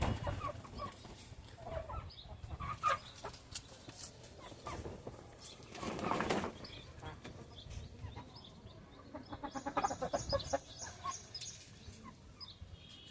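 Medak breed breeder hens cluck in repeated short bursts on a poultry farm, moderately close and fairly quiet, with busier clucking near the end and no talking.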